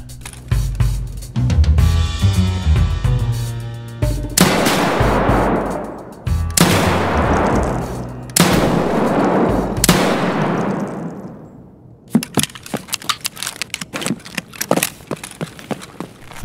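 Revolver shotgun firing in Escape From Tarkov, a series of loud booming shots spaced a couple of seconds apart with decaying echoes, then a rapid run of sharper clicks and reloading clatter.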